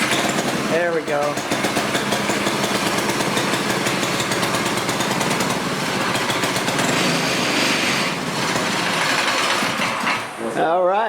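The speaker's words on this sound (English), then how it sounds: "All right, we're trying to get the motor going." A Club Car golf cart motor catches on a pull start and runs at a steady, loud, rattling idle, with people talking nearby throughout.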